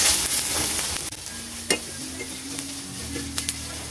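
Onions sizzle steadily in hot oil in a kadai, a continuous bright frying hiss broken by a few sharp clicks of stirring.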